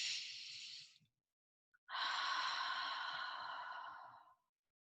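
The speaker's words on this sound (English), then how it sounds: "breathing deeply through your nose and exhaling audibly but gently through your mouth." Two slow, audible exhales through the mouth during a guided breathing exercise, each a soft breathy rush of air lasting a second or more, close and clear with a brief quiet gap between, no talking.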